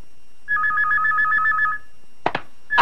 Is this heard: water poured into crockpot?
no